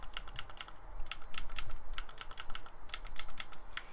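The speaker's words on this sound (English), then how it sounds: "it has your dual analog sticks, which also click down" The analog sticks on a wired PowerWave PlayStation 2 controller are clicked down repeatedly, giving crisp, close plastic clicks in quick uneven bursts with short pauses between them.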